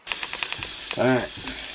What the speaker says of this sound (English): beans are starting to sizzle. Sizzle on bacon grease.